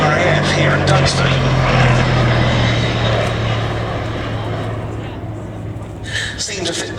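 A Gloster Gladiator biplane's piston engine drones steadily at the Duxford airshow, a loud, continuous propeller roar that gradually fades as it passes.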